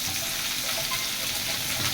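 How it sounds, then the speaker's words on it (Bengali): Sweet pumpkin pieces frying in oil in a home kitchen, added after pointed gourd, giving a constant soft sizzle and hiss throughout with no talking. "পটলটা ভাজা হয়ে গেছে, এবার মিষ্টি কুমড়ো দিচ্ছি।"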